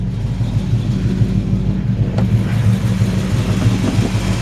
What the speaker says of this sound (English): Let you hear the engine.